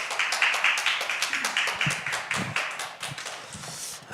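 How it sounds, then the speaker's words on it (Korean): An audience at a Korean lecture on the clarity of Scripture claps to welcome the lecturer, a dense run of close, crisp claps that thins toward the end. "큰 박수로 우리 김병훈 교수님 맞이해 주시기 바랍니다"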